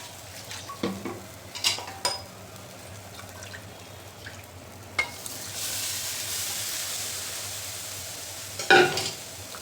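Chopped taro leaves land in a hot pan with tempered garlic for a traditional sweet-sour Maharashtrian curry, a soft sizzle swelling after a few sharp spoon clinks and scrapes, quiet and close.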